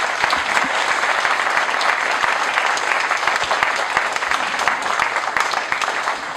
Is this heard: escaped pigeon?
no